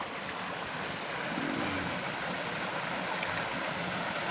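Rocky mountain river on Gunung Lawu flowing over stones, a steady broadband rushing wash heard continuously at moderate level, no voices.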